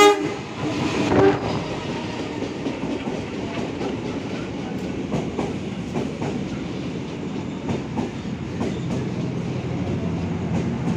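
The KA Bengawan passenger train rolls past a station platform nearby with a loud horn blast at the start, followed by rumbling wheels and rhythmic clacking on the rails.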